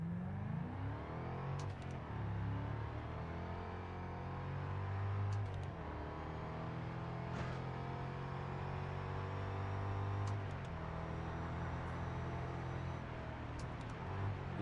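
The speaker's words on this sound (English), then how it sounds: "Love that bit of gearbox whine you get from the back." Steady car engine drone with a high gearbox whine from the rear in the Test Drive Unlimited Solar Crown racing game, played on a wheel, rising and falling through gears continuously for the whole stretch, with no voices.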